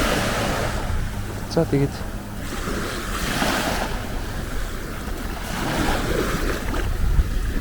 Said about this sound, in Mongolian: Яг зүгээр далай байгаад байна.